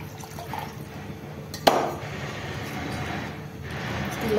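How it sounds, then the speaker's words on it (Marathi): Water poured into a pan of vegetable curry cooking on a home stove, heard as a sudden splash followed by a low, steady liquid wash and faint bubbling. "मी आणखी थोडंसं पाणी टाकू"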